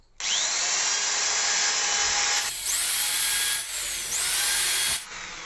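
A power drill with a 1.5 sut bit bores holes in HDHMR board, a loud whining run in several sustained bursts with brief pitch shifts between them, close and alone.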